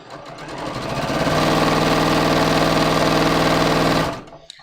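A sewing machine runs a long seam down a dress, revving up to a steady, fast buzzing whir, loud and close, then stopping abruptly before a small click.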